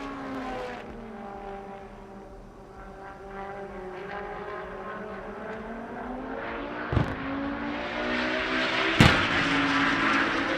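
A race car, apparently an engine note from an auto-racing night event, drones steadily through a lap with rising and falling harmonic pitch, loud and continuous, with two sharp bangs or pops near the end.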